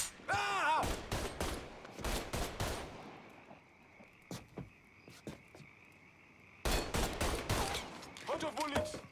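Shootout gunfire in Mafia III: sharp bursts of shots in rapid clusters, some close and loud, others lighter and scattered, with voices shouting between volleys.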